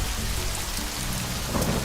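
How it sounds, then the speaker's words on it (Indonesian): Heavy rain pours down in a thunderstorm, a dense, loud, steady roar of downpour with rumbling thunder beneath and no voices. "langit menjadi mendung dan angin bertiup, serta hujan lebat mulai turun"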